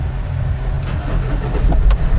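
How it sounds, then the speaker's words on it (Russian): A Mercedes Sprinter van's engine runs after starting with the clutch pressed, a loud, steady low rumble close by with a couple of brief knocks near the end, no talk. "Все заводится, все четко."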